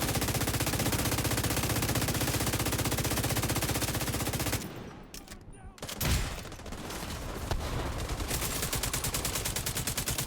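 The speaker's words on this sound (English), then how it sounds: "Of course, I love my noob cannon, my rat-a-tat-tat LMG." Light machine gun fire in The Division 2, sustained rapid automatic bursts dense and loud, pausing briefly mid-clip with a thud before the gunfire resumes at full intensity.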